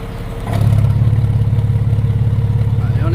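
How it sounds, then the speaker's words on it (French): A 2002 Porsche Boxster 986 2.7-litre with exhaust bypass valves open, a loud, close, deep throbbing exhaust note that swells sharply after a quiet start and holds steady. "Et on est passé avec les valves ouvertes."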